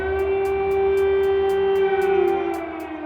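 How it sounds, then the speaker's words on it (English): A steady, sustained wail of an air raid siren in Kyiv, Ukraine, during the Russian invasion, drones continuously, loud and unbroken, with a faint rhythmic pulsing over it. "In the capital of Kiev, air raid sirens sounded for the first time."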